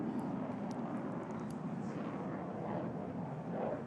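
A Pakistan Air Force JF-17 fighter jet roars through a flying display at an airshow, its engine producing a loud, continuous, broadband rumble that swells slightly toward the end.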